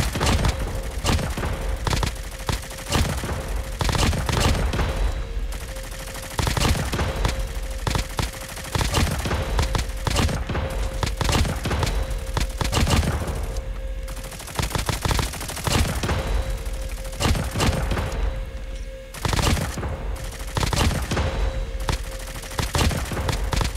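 AK117 assault rifle fire from COD Mobile, a mobile shooter game, comes in loud close rapid bursts with brief pauses between them, repeating across the whole stretch with no talk.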